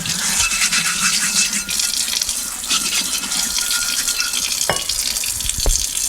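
Tap water runs steadily while a cast iron pan is scrubbed clean front and back, with a continuous splashing rush and a couple of sharp knocks near the end.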